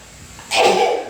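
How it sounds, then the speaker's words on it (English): One loud, close sneeze from a person, a sharp burst after a quiet breath-in, standing alone with no talking. "Now being greedy if I keep sneezing."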